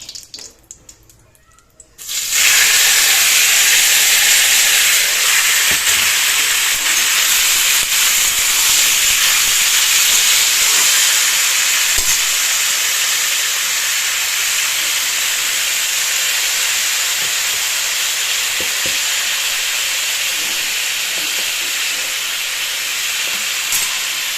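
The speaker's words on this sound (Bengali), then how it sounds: "চলো চাটনিটা বসিয়ে দিই" Chutney cooking in a pan breaks into a loud, sustained sizzling hiss after a brief quiet start, then holds steady at full strength to the end.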